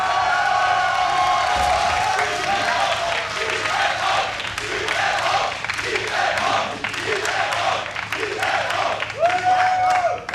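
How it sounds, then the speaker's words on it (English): A large esports arena crowd at a StarCraft 2 tournament cheers, whoops and applauds for Liquid TLO, a loud sustained roar with scattered shouts and whistles beneath an announcer's amplified voice. "Give it up for Liquid TLO"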